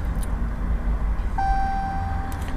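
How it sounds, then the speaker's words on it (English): A Dodge RAM truck gives a steady electronic beep while a DiabloSport tune is written to it. The beep starts midway, a clear sustained tone over a low rumbling background. "you'll see your truck or car or whatever start making all these beeping noises too"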